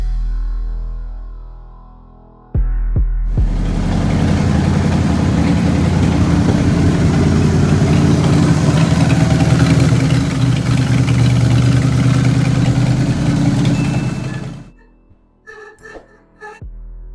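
A third-generation Chevrolet Camaro Z28, fresh from a repair with a new PCV pipe, catches and settles into a steady, loud idle that holds evenly for about twelve seconds before cutting off, with no talking over it.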